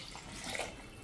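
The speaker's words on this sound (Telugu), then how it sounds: "ఇంకొంచెం నీళ్ళు వేయాలి కదండి." Water being poured into a cooking pot over soaked millets and lentils, a steady soft splashing stream running for about a second with no talk.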